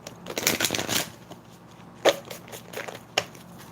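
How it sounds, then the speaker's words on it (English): An oracle card deck being shuffled by hand, a run of soft riffling, flicking card sounds followed by a few sharper slaps and taps of the cards, close and fairly quiet with no talking. "one more shuffle"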